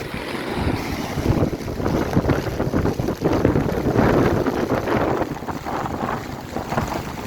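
Steady rough wind roars across the microphone over churning, splashing water of the Meghna River during a cyclone, loud and continuous with no voices.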